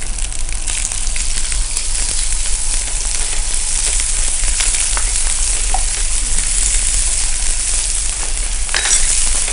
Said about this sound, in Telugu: లైట్గా మనకి ఫ్రై అయితే కుక్ అయ్యే వరకు మనం ఫ్రై చేసుకుంటే సరిపోతుందండి